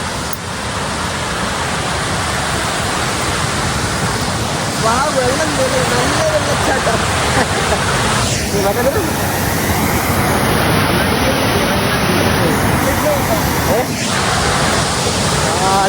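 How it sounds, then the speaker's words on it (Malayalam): A waterfall gives a loud, continuous broadband roar heard from close by, steady throughout, with a voice talking over it. "നമ്മൾ വെള്ളച്ചാട്ടത്തിന്റെ അടുത്ത് എത്തി"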